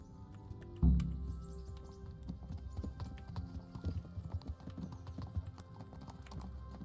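Horse hooves clip-clop at a steady pace while riding in the video game Kingdom Come: Deliverance, close and fairly soft after a brief thump.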